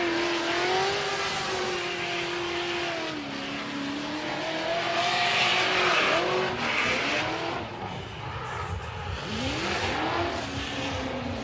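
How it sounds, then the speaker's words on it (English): A Nissan S14 Formula Drift car on a practice run at a New Jersey event screams under high revs, the engine note rising and dipping with gear changes and tire squeal, loud and continuous. "Jeff Jones getting a bit of a practice run here."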